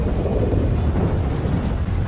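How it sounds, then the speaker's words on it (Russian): Thunder in GTA 5, a low, continuous rumble that rolls loud and heavy for the whole stretch, with a faint hiss like rain over it and no voices. "Как раз звук грома и заглушит выстрел."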